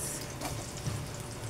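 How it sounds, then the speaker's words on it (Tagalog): Onions tossed into a pan and frying while cooking ginataang sitaw, a continuous soft sizzle with a few faint stirring clinks, quiet and close with no talking. "Lagay ko na ang sibuyas."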